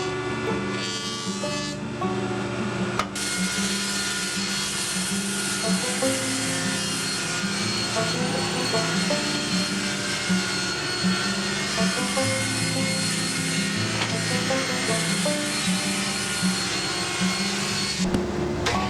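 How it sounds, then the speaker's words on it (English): A jointer flattens the edge of a big Padauk hardwood slab, a steady loud machine roar with cutterhead whine running continuously throughout, without talk. "Now I'm taking this big slab of Padauk and I'm running it through the joiner to give myself a flat edge"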